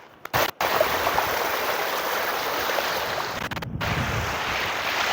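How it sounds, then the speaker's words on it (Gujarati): Plenty of water flows along a stream in a steady, close, broadband rush, briefly cut by a few sharp dropouts near the start and middle. "ખાસું બધું પાણી હેડે છે"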